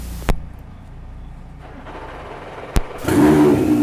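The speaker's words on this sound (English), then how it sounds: "Got it fired up." An Acura race car engine starts up after two sharp clicks, then builds into a steady, rising engine roar close by toward the end.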